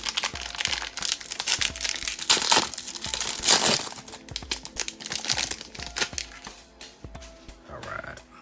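The paper wrapper of a 2025 Bowman Draft baseball trading card pack is torn open and crumpled, with a run of close, crisp crinkling, tearing bursts and rustles that fade into softer handling.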